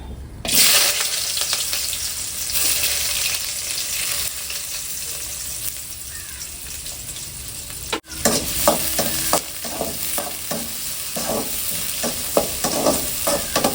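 Curry leaves and onions sizzle in hot oil in a pan, a steady close frying hiss with a loud burst as they drop in, then scraping stirs and spatters repeating through the second half.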